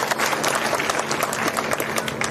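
Loud, dense applause from a big crowd at an outdoor political rally in Haryana, steady and unbroken throughout with no talk over it.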